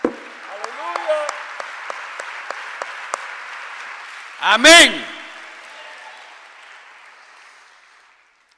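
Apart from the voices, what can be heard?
congregation clapping for the Lord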